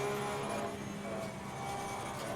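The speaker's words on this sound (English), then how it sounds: "Also not entirely sure if I'm over-revving the Porsche" Porsche race car engine in Assetto Corsa Competizione, held at high revs near the limiter, a steady loud droning whine with a few slight surges and no voices.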